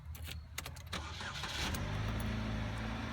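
A car engine cranks briefly after being connected to a BlitzWolf K3 jump starter, catches and settles into a steady, close idle.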